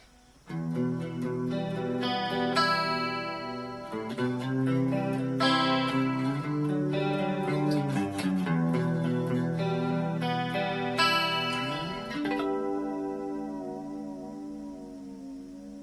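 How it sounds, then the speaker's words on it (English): A clean electric guitar through a Blackstar ID:Core 20 amp plays sustained chords with a shimmering chorus and a reverb tail that lingers and fades at the end. "We've got this with a bit of reverb and chorus."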